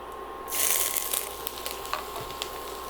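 Ginger dropped into hot tempering oil for semolina upma gives a sudden loud sizzle that settles into a steady crackling hiss, close and alone.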